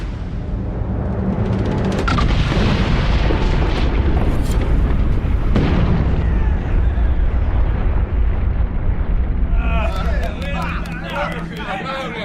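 A large rumbling explosion in the video game Dragon Age Inquisition, during The Descent expansion, a loud sustained roar with crashing debris and layered effects, while a voice speaks over it.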